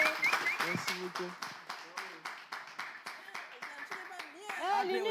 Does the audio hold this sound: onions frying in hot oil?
no